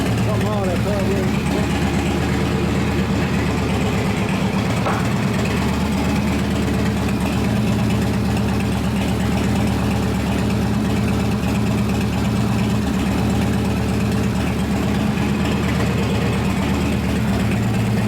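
A 1983 Harley shovelhead FXR engine with a faulty carburetor runs steadily nearby, a continuous low rumbling idle throughout, with voices talking over it.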